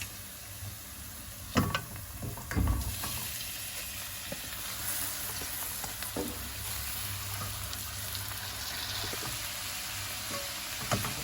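Chard sautéing in a pan with salt and tomato paste, a steady close sizzle and hiss running throughout, broken by a few sharp scraping knocks of a spoon stirring the greens.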